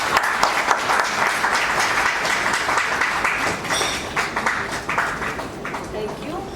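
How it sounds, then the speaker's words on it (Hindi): Audience applause at an evening event for the Aarambh Trust, steady dense clapping sustained throughout with voices mixed in underneath. "तालियां बजा दो."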